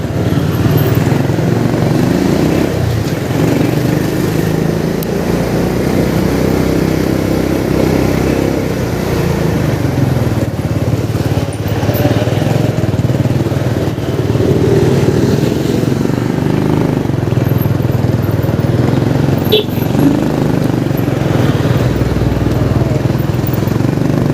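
A motorcycle engine climbs a steep uphill road in traffic, a steady loud drone that holds close and continuous throughout, with no talk over it.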